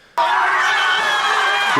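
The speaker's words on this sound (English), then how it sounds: "Everyone's cheering." A crowd bursts into loud, sustained cheering and screaming at a high school promposal, heard through a replayed phone recording, starting abruptly and carrying steadily to the end.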